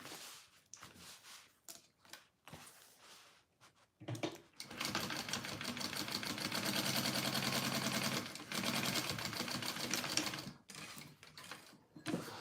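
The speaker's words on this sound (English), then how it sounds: "I sewed over my zipper tape here and here just to close it off" A sewing machine stitches across zipper tape to close off a crossbody bag pocket. Short stop-start bursts are followed by a long, steady run of rapid stitching, close and alone.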